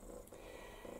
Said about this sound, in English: Purring away.